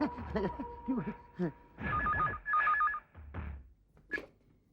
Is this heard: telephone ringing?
yes